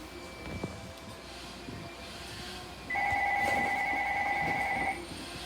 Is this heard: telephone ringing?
yes